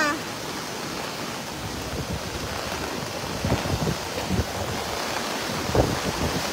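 Floodwater rushes through the streets of Lemery, Batangas, a loud continuous wash of water and wind noise with occasional splashing surges.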